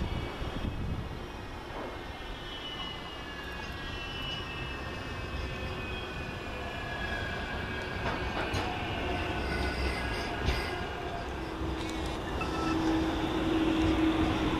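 A Manchester Metrolink M5000 tram rumbles past steadily in Rochdale, its low drone and faint squeals building toward the end, with no voices.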